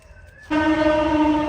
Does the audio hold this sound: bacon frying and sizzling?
no